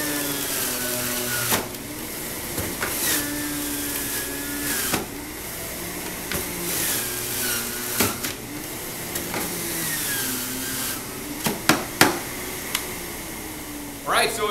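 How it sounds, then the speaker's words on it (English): An Omega Big Mouth juicer runs with a steady motor hum while whole tomatoes are dropped in, giving intermittent thumps and crunching bursts, and a voice talks quietly over the machine. "We're going to turn this machine on, and basically I will just take whole tomatoes, drop them in the machine, and the juice just comes out."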